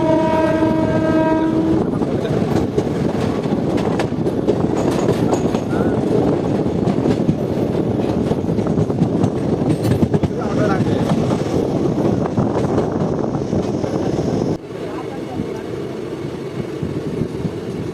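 An express train rumbles loudly along the rails through a small Jharkhand station, with steady mechanical roar and rattling, a horn-like tone sounding briefly at the start.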